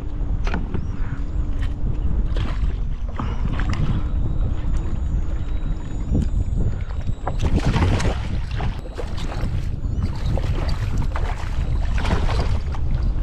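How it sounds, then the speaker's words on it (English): Strong wind gusting across a microphone on an open fishing boat during a flood tide, a steady loud rushing roar with heavier buffeting in the middle. "That wind was just an unwelcome surprise"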